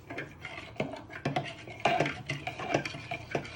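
A fork stirring a mixture in a bowl for a lamb kebab recipe, with repeated close scraping and clinking strokes against the bowl in an uneven rhythm, fairly quiet.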